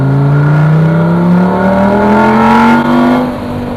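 A Lamborghini Gallardo supercar engine revs hard while driving through Dubai, its pitch climbing steadily as it accelerates, loud and close, then easing off at the end with no talking.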